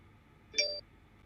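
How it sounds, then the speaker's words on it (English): A phone gives one brief electronic beep, short and moderately clear over a quiet background. "That was my phone."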